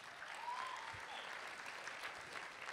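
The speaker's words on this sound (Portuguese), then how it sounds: "uma salva de palmas para vocês" Applause from a youth meeting audience at a church fills the room steadily, a broad dense patter at moderate distance with no talk over it.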